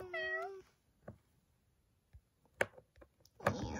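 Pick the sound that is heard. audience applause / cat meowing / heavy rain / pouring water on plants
cat meowing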